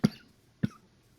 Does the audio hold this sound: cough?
yes